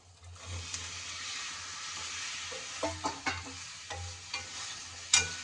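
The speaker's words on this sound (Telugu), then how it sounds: "చామదుంపలు కొంచెం ఆయిల్లో ఫ్రై అయ్యాక" Taro pieces fry in oil with ginger and garlic, giving a steady broadband sizzle with a low hum beneath and a run of sharp scraping clicks from stirring near the end.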